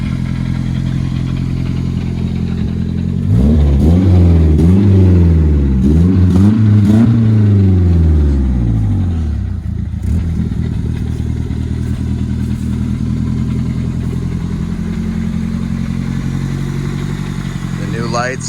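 Mercedes-Benz 190E engine running close and loud at a deliberately high idle, with a burst of revving early on, then settling back to a steady drone.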